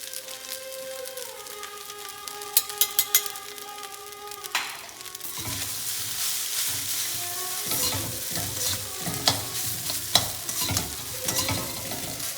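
Lemon rice ingredients stirred in oil in a pan, a steady sizzle with scraping stir strokes, spoon clinks on the pan growing busier in the second half; close and fairly loud.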